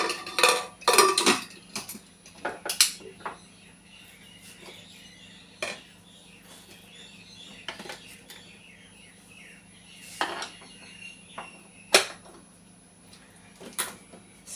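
A cooking pot being covered with its lid in a home kitchen, with scattered metallic clanks and clinks of lid, pot and utensils spread across a quiet background.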